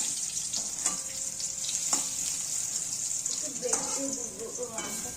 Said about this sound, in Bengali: এদিকে বেগুন ভাজা হচ্ছে